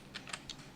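A computer keyboard shortcut, Control plus the quote key, is pressed as a few soft, quick key clicks, faint and close, with no talking.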